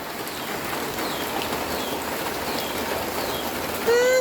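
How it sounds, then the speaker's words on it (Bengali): Continuous rain patters down evenly outside a house, with faint bird chirps in the background and a short rising whistle-like tone at the very end. "বৃষ্টি আসতেছে"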